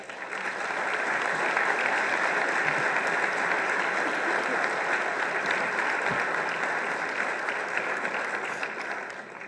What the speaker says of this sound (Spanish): Para las mujeres de Honduras es hoy nuestro aplauso.